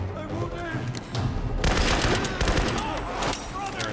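Sustained assault rifle fire in Tomb Raider, a dense, fast burst of close shots that swells louder in the middle and continues under someone talking.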